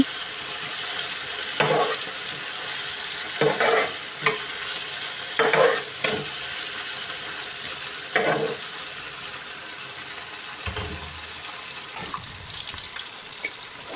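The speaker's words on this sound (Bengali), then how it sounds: "মরিচ দিয়ে আমি আবারও নাড়াচাড়া দিয়ে দিব।" A spoon scrapes and stirs chilies and soft-cooked tomatoes frying in a pan for a dried ribbonfish bhuna. Repeated close strokes sound over a steady sizzle, with no talking.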